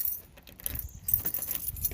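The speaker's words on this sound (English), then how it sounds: "Now I gotta get my keys." A ring of keys jangles close by in short metallic bursts while someone fetches them, with light rustling and a faint low rumble underneath.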